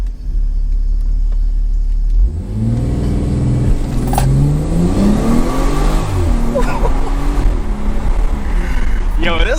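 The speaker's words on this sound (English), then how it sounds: "Let me give you guys a little launch" A BMW 340i with a B58 engine idles, then roars into a hard launch, revving loudly and climbing through gears as it accelerates close by.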